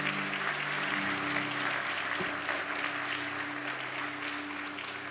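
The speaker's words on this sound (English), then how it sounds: "Let's give all our ladies a round of applause today." Applause from a church congregation at a Sunday Mother's Day service, steady and fairly soft, filling the room alongside a low sustained musical hum underneath.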